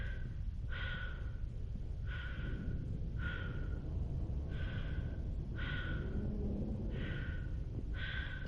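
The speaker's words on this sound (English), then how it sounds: "Everything suddenly goes quiet because we're in the vacuum and all you can do is hear Shepard's breathing." Shepard breathing inside a helmet in the vacuum of space in the video game Mass Effect, slow regular inhale and exhale cycles repeating about once a second over a low muffled rumble, close and isolated.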